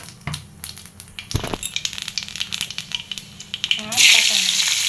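Black cumin seeds are tipped into hot oil for a taro-leaf vegetable dish; scattered clicks and pan knocks lead to a sudden loud crackling sizzle near the end, heard close up.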